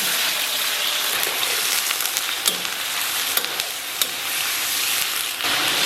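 Chicken pieces sizzle loudly in moderately hot oil as they are stir-fried in a wok, a dense steady crackle with sharp pops and stirring clacks.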